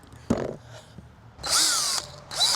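A power drill used for a garden project whirs in short bursts, two loud spells of high whining with a falling pitch as it spins down, after a sharp knock and quieter pauses.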